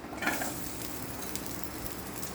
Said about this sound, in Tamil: தேங்காய் நல்லா பொரிஞ்சிட்ருக்கு.